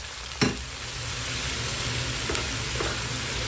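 Tomatoes sizzle steadily in a hot pan for squid adobo, a constant close frying hiss with a couple of brief stirring clinks, no talk.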